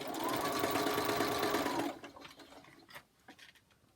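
A sewing machine stitches quilt block pieces for a GGMA's Star block, chain-piecing with a leader and ender. It runs steadily and fairly loud for about two seconds, then stops, leaving a few faint handling clicks.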